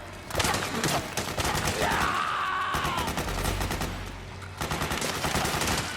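Rapid bursts of automatic gunfire and scattered shots fill a Metal Gear Solid 4 battle, crackling continuously with a short lull midway and a low rumble underneath.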